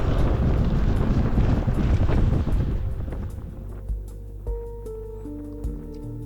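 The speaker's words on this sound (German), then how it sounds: "Und jetzt kam auch der Wind." Strong wind buffets the microphone during a coastal bicycle ride on the west coast by a lighthouse, loud gusty roar fading after a few seconds to quieter, calmer air with faint tones and soft knocks.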